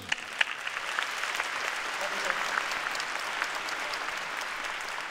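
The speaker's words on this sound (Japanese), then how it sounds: "皆さん13年間頑張ったノブに熱い拍手をお願いします。" Warm, even applause fills an arena at a Muay Thai kickboxing event honouring a welterweight fighter retiring after 13 years, heard moderately far off and steady throughout.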